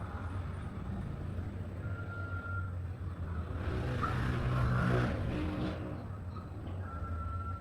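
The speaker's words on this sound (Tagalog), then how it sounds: "sorry talaga sa ingay ng ating mga sasakyan sa labas" Vehicles pass outside as a low, muffled, fairly faint traffic rumble, swelling as one goes by mid-clip, with a faint high beeping tone in the background.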